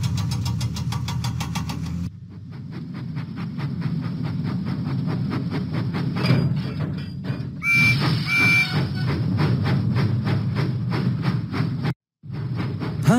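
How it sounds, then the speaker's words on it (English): Percy the steam engine from a Thomas and Friends video game chugs out of the docks with an even mechanical rhythm, a short whistle-like tone sounding partway through and a brief dropout near the end. "Percy pumped his pistons and puffed out of the docks."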